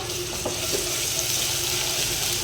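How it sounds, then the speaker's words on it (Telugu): Ginger garlic paste sizzles in hot oil in a pan, a steady bright frying hiss with faint stirring clicks underneath, continuous and close. "అల్లం వెల్లుల్లి పేస్ట్ అయితే వేసేస్తున్నా ఆయిల్లో"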